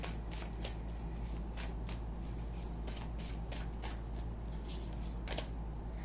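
Tarot guidance cards being shuffled by hand: a steady, close rustle of riffling paper with sharper flicks every second or so, continuing for several seconds with no talking.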